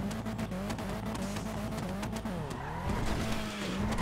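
A 2100 HP Nissan GTR R35 drag car in GTA 5 launching into a wheelie, its engine roaring loudly and steadily while tires squeal and revs rise and fall.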